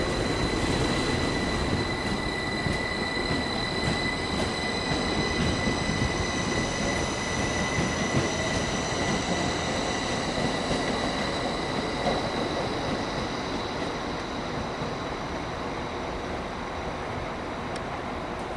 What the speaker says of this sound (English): coming in here we've got another Class 158